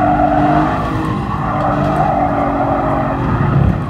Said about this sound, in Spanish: Tiramos ahí de freno motor.